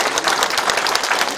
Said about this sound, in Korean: 서로에게도 큰 박수 보내주시기 바랍니다